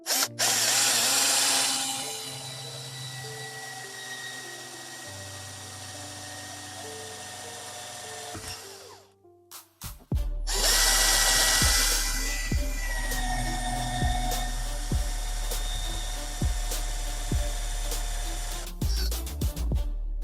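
A power drill bores with a 4mm bit through the frame of a folding camping table, whining in two long bursts, the motor pitch wavering and stepping as it bites, with a brief pause and clunks between holes.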